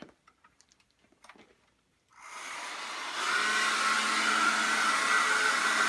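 Hair dryer switched on to dry acrylic paint on an abstract painting, a broad steady whoosh that starts abruptly after a few faint clicks and handling sounds, then grows louder and holds close and continuous.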